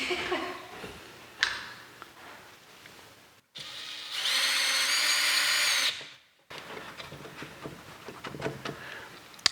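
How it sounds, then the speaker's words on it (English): Power drill backing drywall screws out of a window frame: a short whirring burst, then a loud steady whine for a couple of seconds, with surrounding handling and scraping noises nearby. "let's take one screw out here and see what happens"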